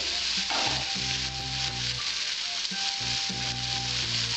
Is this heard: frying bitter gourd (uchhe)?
yes